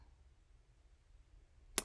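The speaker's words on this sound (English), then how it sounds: "I don't know if that's a reason to set off fireworks." A single firework bang goes off outside, one sharp, fairly distant pop near the end after almost two seconds of quiet low rumble.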